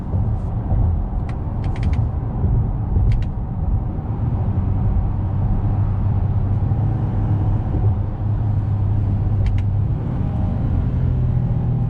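2022 Honda Pilot SUV driving along, a steady low engine and road rumble from inside the cabin with a few faint clicks, no clear rev change marking the downshift.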